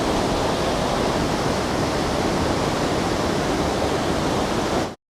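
Waterfall at Lover's Point in Daringbadi, plunging into a deep pool, gives a loud, steady, unbroken roar of rushing water close by that cuts off abruptly near the end.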